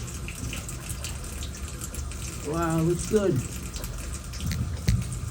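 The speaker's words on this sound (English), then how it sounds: "Is the water going down? Yeah, come on, Lou." Water runs steadily into a new 60x30 Americast bathtub and drains away, a constant faucet rush with a person briefly talking over it.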